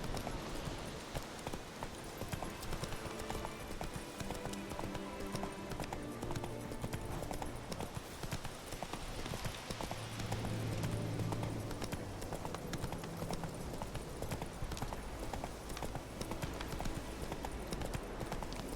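Roach, a horse in The Witcher 3 video game, gallops with dense, continuous clip-clopping hoofbeats, loud and close, over a busy bed of game ambience and music.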